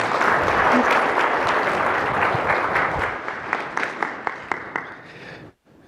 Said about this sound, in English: Let's give another round of applause for Amisha.